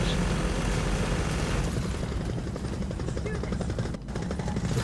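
Helicopter in the video game Gears of War 4, its rotor thudding as a continuous loud rumble with rapid chopping pulses that dip briefly near the end.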